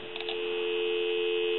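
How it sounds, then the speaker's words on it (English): A steady, continuous telephone dial tone comes through a Kellogg wooden wall crank telephone converted to a regular line, with a faint buzzy hum and a few soft clicks at the start. "There's some dial tone."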